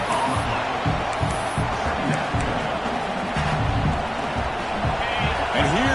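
Stadium crowd at a college football game between WKU and Clemson roars steadily as the defense faces a red zone stand, a dense continuous wash of noise with a commentator talking over it.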